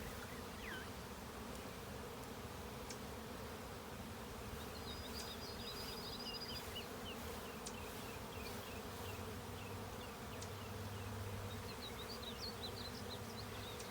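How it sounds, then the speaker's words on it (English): A honey bee swarm hums steadily in a cedar tree, a dense continuous buzz filling the air for the whole stretch, with scattered birdsong drifting in from farther off. "After a while, we'll shoo these bees out of the tree."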